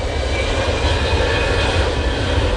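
An EasyJet airliner arriving at Manchester Airport on a windy day, its engines giving a loud, steady, broadband roar that fills the moment without any talking.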